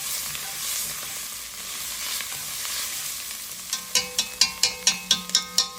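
Chilies are stirred in a cooking pot for a Szechuan pickled mustard fish soup, with a loud steady sizzle at first, then a quick regular series of sharp metallic clanks as a utensil strikes the pot.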